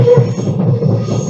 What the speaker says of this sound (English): It's very comforting actually to hear the train.